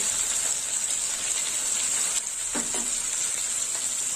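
Ginger and green chili paste with a spoonful of cumin powder sizzling in a hot pan while cooking a vegetarian moong dal with taro; a steady, even frying hiss throughout with a few brief clinks.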